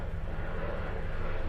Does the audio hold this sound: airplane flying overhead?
yes